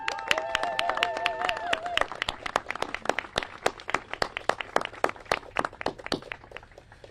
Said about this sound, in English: We elected officials want to give all of you a round of applause.